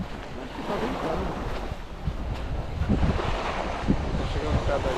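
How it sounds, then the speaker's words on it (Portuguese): Wind buffets the microphone continuously at Praia de Itaguaçu in Florianópolis, a rough, gusty rumble with no voices, sounding outdoors and close. "Tá ventando."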